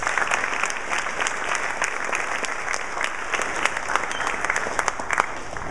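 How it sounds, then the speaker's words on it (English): Steady audience applause at an alumni service recognition event at Hampden-Sydney, many hands clapping densely and continuously at moderate loudness with no talk over it. "Go ahead and give him a round of applause."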